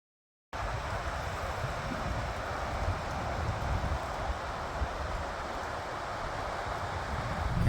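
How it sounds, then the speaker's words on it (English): Steady wind roaring across the microphone outdoors in the Daintree rainforest, a constant broadband rush that builds slightly toward the end, with no voices. "There's the wind there."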